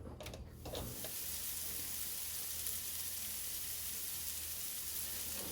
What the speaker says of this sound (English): we're going to fry up our onions and our 2 garlic cloves